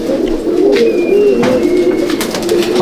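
Female racing pigeon cooing in a loft, a series of soft low throaty coos repeating close by, with faint rustling and background noise.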